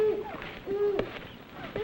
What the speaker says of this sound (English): That's an owl.